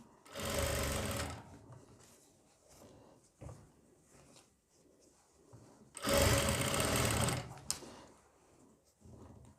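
A sewing machine stitches a kurti seam in two loud, close bursts of rapid whirring, separated by quieter handling clatter and soft rustling of fabric.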